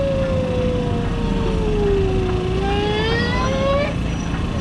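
A voice imitates a motorcycle engine revving out of a turn at a track day, one continuous rising and falling whine that climbs in pitch toward the end over a steady noisy background.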